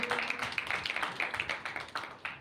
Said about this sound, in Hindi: एक बार ताली बजा करके भी हमारे भाई साहब मोहम्मद साहब का धन्यवाद करें।